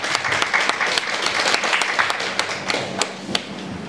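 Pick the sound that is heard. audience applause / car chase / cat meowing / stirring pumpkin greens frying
audience applause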